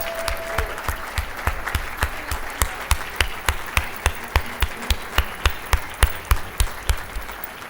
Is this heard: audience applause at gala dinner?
yes